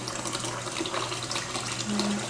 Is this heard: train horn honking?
no